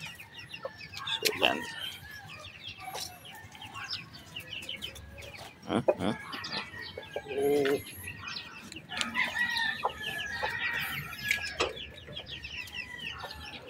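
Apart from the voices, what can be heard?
chickens clucking, rooster and hen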